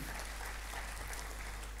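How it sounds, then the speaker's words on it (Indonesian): A church congregation claps for Jesus during a Sunday service, soft, continuous applause heard faintly over a low steady hum. "Berikan tepuk tangan buat Tuhan Yesus"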